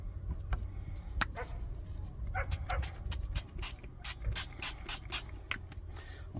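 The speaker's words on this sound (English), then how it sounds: "I'll put a little bit of this on them, light fry oil" Light fry oil sprayed onto mushrooms in a frying pan in a van kitchen: a series of short, close hissing spray bursts, some in quick succession, over a low steady rumble, with no voice.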